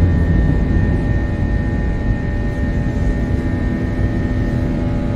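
Airliner taking off from Baku airport at night, heard from inside the cabin as a loud, steady engine roar with deep low rumble that holds continuously throughout.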